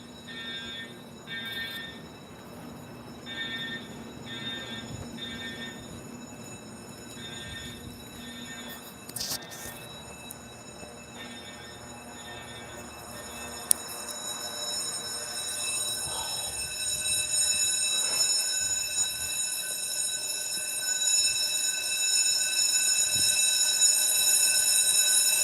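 A building fire alarm keeps sounding in repeated electronic beeping bursts, then shifts to a steadier, louder tone that builds toward the end, with no talk over it.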